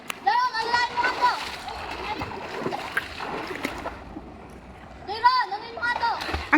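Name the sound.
children jumping and splashing into river water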